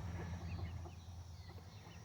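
Silkie chickens cluck softly in a backyard flock, faint and low under a steady background hum.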